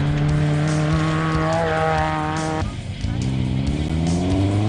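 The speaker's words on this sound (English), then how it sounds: "That will be Werner Mostert setting off at pace on his loop of 50 kilometers to be completed 4 times" An off-road race car sets off at pace at the Lichtenburg 200, its engine revving hard and climbing through the gears with a steady roar, a brief dip midway before the pitch rises again, loud and close throughout.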